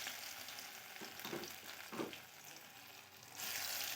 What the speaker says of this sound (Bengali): দেখুন, আমি এইভাবে দিয়ে ভেজে নিচ্ছি।